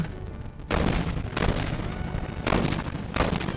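Gunfire in the Warzone Mobile battle royale shooter on mobile: loud, dense volleys of shots arriving in several sustained bursts with brief lulls between them, close and continuous.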